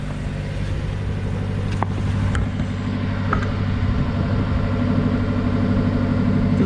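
Vauxhall Vivaro diesel van engine running under a light rev with a sooty exhaust, a steady mid-pitched drone with a slight rise, heard close with a couple of faint clicks.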